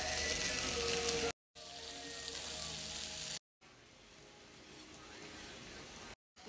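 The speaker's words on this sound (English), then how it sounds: "I'm gonna flip the hash browns now for the first time." Hash browns sizzle and crackle in a frying pan as they are flipped, a steady broadband fry hiss that drops out briefly between short cuts, with faint voices now and then.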